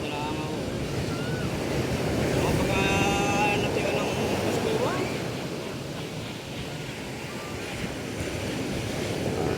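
Ocean waves breaking and surging on a beach, where people bring a boat in through the surf; continuous loud washing roar with wind buffeting the microphone and faint chatter in the background.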